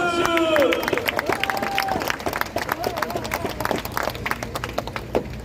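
Crowd applause at an outdoor anti-homosexuality rally in Daegu, a brisk burst of clapping mixed with crowd noise and a voice over a loudspeaker near the start.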